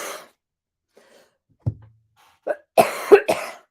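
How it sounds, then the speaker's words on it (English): A woman coughs indoors with a few short, separate barks, a single cough then a quick cluster of three or four harsh coughs in close succession, close to the microphone with quiet pauses between. "Apparently, I'm going to cough up a lung today."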